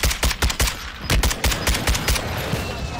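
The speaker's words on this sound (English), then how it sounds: "Shots to the right, shots to the right." Rapid bursts of automatic gunfire ring out in the video game Warzone, dense repeated shots in quick clusters, loud and close, with no talking over them.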